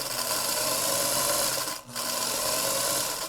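A sewing machine stitches curved fabric pieces together as they feed under the presser foot, a steady close whirring drone with a brief dip near the middle, no voices.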